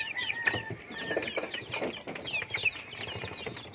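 Native chickens cluck and chatter close by in a yard, a busy overlapping run of short calls from several birds with no talking.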